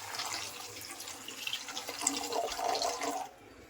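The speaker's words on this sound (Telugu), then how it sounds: "నీళ్ళు పోసేస్తే అయిపోతుంది" Water splashes and gushes steadily for about three seconds, fairly close, then stops abruptly into near silence.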